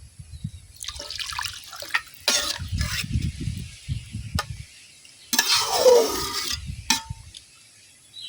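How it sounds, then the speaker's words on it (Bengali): Broth poured into a simmering sour chanda fish curry with chukka leaves, splashing and dripping in bursts with liquid bubbling and stirring in between, close up and fairly loud, no voices. "এই পর্যায়ে দিয়ে দেন পরিমাণ মতো ঝোল।"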